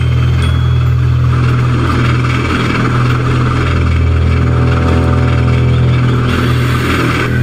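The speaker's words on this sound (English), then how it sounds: "saw the little engine charging down the line as fast as his pistons would pump" Little steam engine in the Sodor Online video game charging down the line, a steady loud low mechanical rumble and hum carrying on without a break, with no talk.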